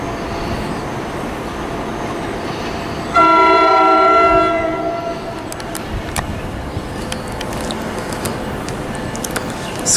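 A train sounds a loud sustained horn at Trenton Station on the Northeast Corridor, then rumbles and clatters past with rhythmic wheel clicks as the horn fades into the steady roar of the passing cars.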